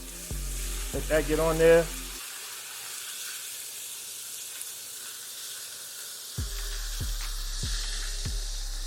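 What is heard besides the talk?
beef frying in a greased skillet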